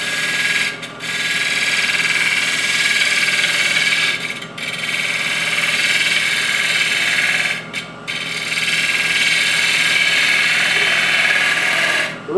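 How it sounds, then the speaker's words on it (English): Woodturning bevel rubbing cut with a Hunter Viceroy tool on a lathe, a steady close hiss of cutting and spinning that runs almost continuously, broken by a few brief pauses where the tool lifts from the wood. "I'm going to do a bevel rubbing cut."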